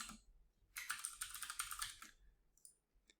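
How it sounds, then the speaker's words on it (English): Fingers type a room code on a computer keyboard, a quick burst of crisp, close key clicks lasting about a second, then a few scattered taps trailing off into quiet. "if I was to type in my room code"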